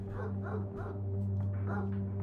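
A dog barking and yipping repeatedly in a video game, several short close yelps over a steady low electrical hum.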